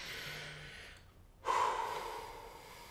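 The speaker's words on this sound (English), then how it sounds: "Now let's take a deep breath." A deep breath is drawn in during an improv therapy scene: a soft airy inhale, a brief pause, then a stronger close exhale, with faint background tone and no words.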